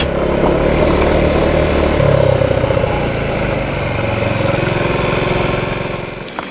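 A Rex RS 700 motor scooter engine runs loud and close, a steady buzzing drone that shifts pitch slightly as it rides, then fades at the end.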